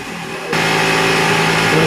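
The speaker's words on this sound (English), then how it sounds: "It's just an air compressor." A 12-volt air compressor switches on to inflate a mountain bike tire being converted to tubeless, a sudden steady mechanical hum and buzz that starts abruptly and continues loud and close.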